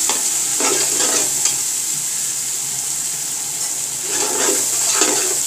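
Whole garam masala spices, cinnamon and cloves, roast with a steady dry sizzle in a pan, with a few close bursts of scraping and stirring near the start and again toward the end.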